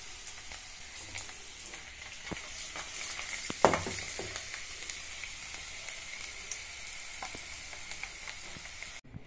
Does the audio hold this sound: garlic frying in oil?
yes